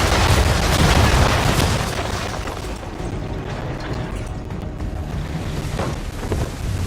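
Ship cannons firing during a naval battle in Assassin's Creed 3, a loud sustained rumbling boom with heavy low-end roar at the start, then settling into a broad noisy wash like sea spray and wind.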